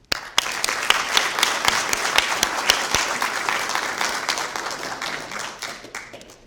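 An audience applauds steadily to welcome Professor Bruce Thom to a lecture on coastal science, a dense, sustained clatter of many hands clapping at close range that holds for several seconds and tapers slightly at the end.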